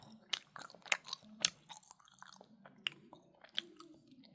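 Jelly being chewed close to the mic, wet squishy bites and smacking chews in an irregular rhythm, with a few sharper clicks, and no talking.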